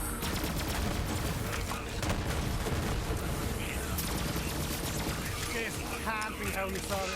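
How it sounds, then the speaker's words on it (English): Rapid gunshots from a weapon in the Borderlands 3 video game, dense crackling bursts of fire throughout, with someone talking over the action. "I'm gonna fire a few shots first just to get the kill skills up"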